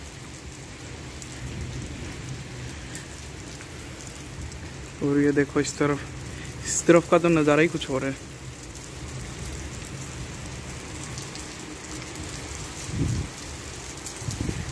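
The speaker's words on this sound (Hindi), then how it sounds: "अभी तेज होने वाली है और ज्यादा ही बारिश।" Steady monsoon rain pours down as a continuous hiss across the whole stretch, with a voice speaking briefly partway through and a faint low rumble near the end.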